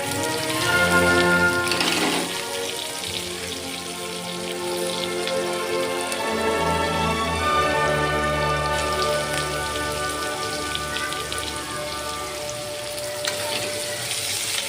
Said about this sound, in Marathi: लसूण छान असा गोल्डन कलर झालेला आहे त्यात आपण कांदे टाकून घ्यायचे